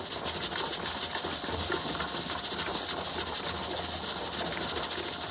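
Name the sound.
pressure canner venting steady steam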